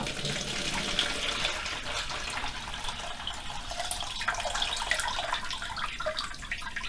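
Water from a toilet valve pouring into a plastic tub, a steady splashing gush with a bright hissy wash that runs without a break throughout, fairly close.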